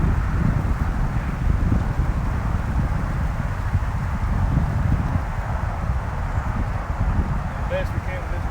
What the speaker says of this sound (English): Best we can with this wind blowing straight in the face.